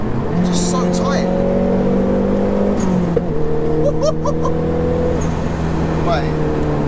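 A 340 bhp Nissan Pulsar GTI-R engine revving hard from inside the car, climbing toward the red line twice, with a sharp pop at the top and people talking over the loud engine.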